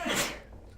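A single sharp sneeze, close and fairly loud, its burst falling off within about a quarter second into a quiet room tone.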